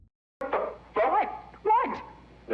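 Dog in a kennel gives three separate loud barks, close up, with short pauses between them and an abrupt start after silence.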